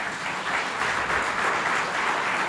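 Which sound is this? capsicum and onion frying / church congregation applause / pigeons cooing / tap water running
church congregation applause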